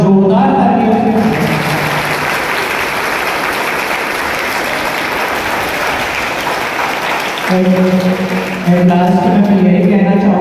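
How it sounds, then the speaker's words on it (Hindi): Loud, sustained applause from parents and children at a school Independence Day function, dense clapping filling most of the clip between brief stretches of amplified voice at the start and end. "एक बार जोरदार तालियों से"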